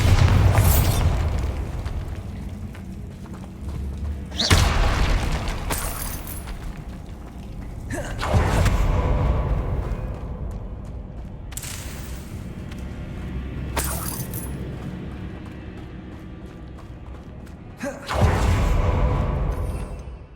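Bombarda explosion spell in Hogwarts Legacy going off repeatedly, each loud blast bursting with shattering debris and then decaying, about five detonations spaced a few seconds apart.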